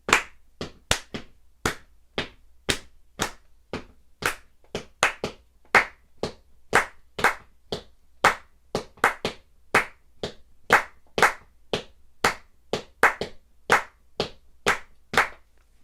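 Hand clapping beats out a Caribbean clave rhythm, sharp claps in a steady repeating pattern over a faint foot-tapped pulse, close and clear with no talking.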